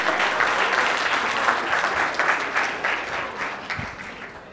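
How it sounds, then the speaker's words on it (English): An audience at a talk bursts into dense, sustained clapping that fills the room, then gradually thins and fades toward the end, with no one speaking over it. "now that I heard claps"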